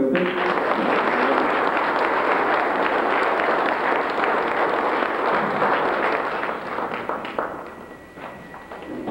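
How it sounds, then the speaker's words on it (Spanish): A church congregation at a baptism and first communion service breaks into loud, sustained applause, dense clapping filling the room for about eight seconds before thinning out near the end. "un aplauso fuerte"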